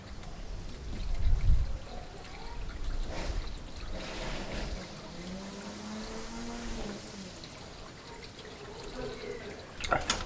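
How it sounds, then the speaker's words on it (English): Water pours steadily into a measured antifreeze coolant mix for an 80 Series Land Cruiser, a continuous close splashing wash lasting several seconds with a stronger gush at the start. "then I'm going to add 3 liters of water"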